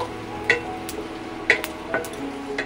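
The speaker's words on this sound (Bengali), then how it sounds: "তেলটা গরম হয়ে গেছে, এখন এর মধ্যে আমি দিয়ে দেব গোটা জিরে, 2টো কাঁচা লঙ্কা, একটা তেজপাতা। ভালো করে নেড়ে নেব" Whole cumin, two green chillies and a bay leaf sizzle softly in hot oil while a spoon stirs them, giving several light clinks and scrapes over a low fry, without speech.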